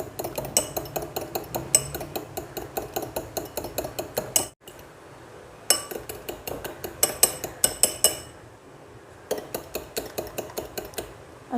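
Egg yolks being beaten in a bowl for a marble cake: a fast, even clinking of a whisk or spoon against the bowl, close and loud, in long runs broken by two brief pauses.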